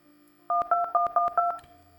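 Phone keypad tones from dialing in the video game Plane Accident, five crisp dual-tone beeps in quick, even succession, clean and close against a near-silent background.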